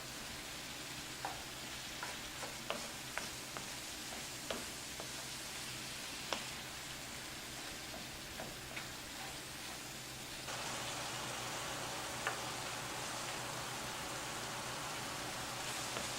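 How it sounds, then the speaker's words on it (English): Hamburger meat, onions and mushrooms frying in a pan make a steady crackling sizzle with scattered pops, close and continuous, growing louder and denser near the end. "Now that my hamburger has browned, the onions are nice and soft, and the mushrooms are done"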